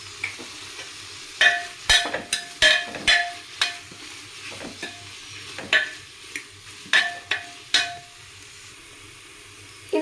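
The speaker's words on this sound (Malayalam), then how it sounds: "അരിഞ്ഞു വിട്ട സവോള ഇട്ടിട്ട് ബ്രൗൺ കളർ ആകുന്നവരെ വഴറ്റുക" Sliced onions sautéing in a pan until brown, with salt added: a soft background sizzle broken by repeated sharp scrapes and clatters as a spoon stirs them, near and fairly quiet.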